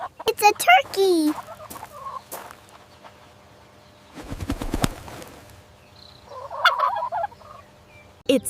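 A turkey gobbles in quick rattling bursts, loud and near, with a burst at the start, a longer gobble in the middle and a shorter call near the end, separated by quiet gaps.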